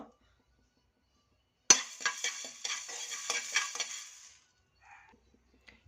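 Black pepper is stirred and roasted in a pan, opening with a sudden sizzle and followed by a few seconds of scraping, clinking stirs before it fades, then faint clinks.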